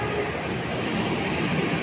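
Tegal Bahari passenger train standing at Bekasi station at night after rain, a steady broad rumble and hiss of the train and platform ambience, fairly loud and continuous with no voices.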